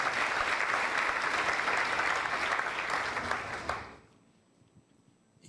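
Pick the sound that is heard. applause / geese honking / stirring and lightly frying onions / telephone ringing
applause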